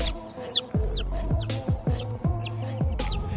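Baby chicks peep in high, sharp chirps over repeated low, rhythmic clucking from hens, loud and close, with the sounds overlapping throughout.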